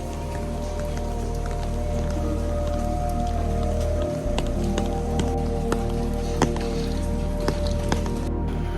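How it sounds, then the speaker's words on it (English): Steady rain falls on the narrow lantern-lit streets of Jiufen, Taiwan, a constant hiss of drops on wet pavement with occasional sharper drips and splashes, fairly close and continuous throughout with no talking. "One thing I do love about the rain though"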